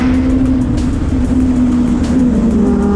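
Formula Open single-seater race cars roar through the carousel corner at SKOPE 2023, a loud, continuous engine drone with a steady high-pitched whine throughout, close and unbroken.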